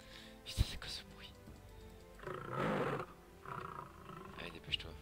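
A lion roars in a Minecraft Jurassic World mod: one rough, sustained roar of about a second rises mid-clip, fairly loud and close, amid quieter game noises and a voice.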